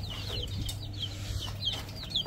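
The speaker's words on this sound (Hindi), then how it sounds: "छोटे वाले चूजे जो है ना वो ठीक चल रहे हैं" White Shamo chicks and chickens clucking and cheeping in a farm coop, several high chirps and short clucks overlapping in quick succession over a low background hum.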